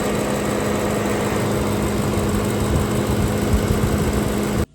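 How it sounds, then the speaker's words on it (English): Faulty electric cooling fan on a BMW E90 M3 running, a loud, steady droning whir with a coarse rough buzz and a faint whine, continuous until it cuts off abruptly at the end. "When your fan's on, it sounds like this."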